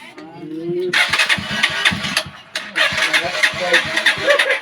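A Rusi TC motorcycle, one with a dead dashboard despite a new battery, fires up about a second in and keeps running with a rough, pulsing beat, close and loud, while people talk over it.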